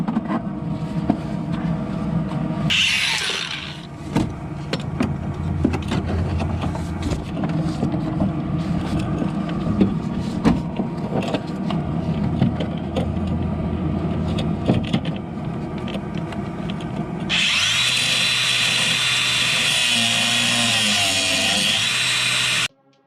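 Power tool grinding off a Nissan sway bar link: a steady, harsh mechanical whine running nearly the whole time, with a brief hiss early on and a louder, brighter grinding stretch near the end before it cuts off abruptly.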